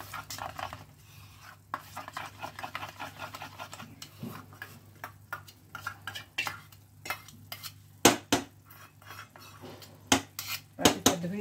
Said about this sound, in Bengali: দইটাও ফেটিয়ে রেখেছিলাম, তার সঙ্গে জিরে গুঁড়ো আর ধনে গুঁড়ো দিয়ে এটাকে ফেটে নিলাম